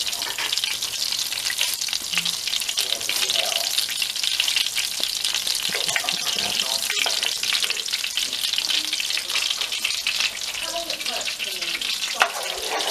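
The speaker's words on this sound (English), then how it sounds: "butter's completely melted. I'm going to throw in the garlic first" Garlic frying in melted butter, a loud, even, close sizzle that holds steady throughout with faint crackles, no voices.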